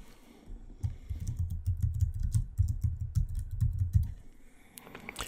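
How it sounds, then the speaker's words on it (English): Fingers type on a computer keyboard in a quiet room, a quick irregular run of soft, close keystrokes lasting about three seconds before stopping. "and then I'll type my name"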